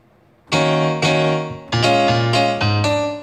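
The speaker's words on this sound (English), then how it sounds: "it was one of, if not possibly the best sampled piano you could ever hear" A 1990s sampled piano plays a sequence of sustained chords and notes, rich and full, each strike ringing out in a moderately paced phrase with no voices.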